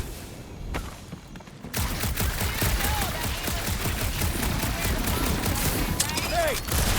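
Sustained rapid gunfire from Marvel's Guardians of the Galaxy game, a dense loud stream of shots after a quieter opening, with a brief voice or two breaking through the barrage.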